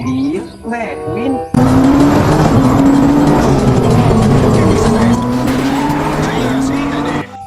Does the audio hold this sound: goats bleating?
no